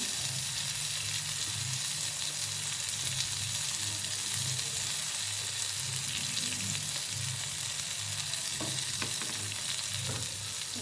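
Flour-coated slices of suran (elephant foot yam) and brinjal, dusted with rice flour and semolina, shallow fry in a pan with a steady, close sizzle and occasional soft stirring clicks, no voices.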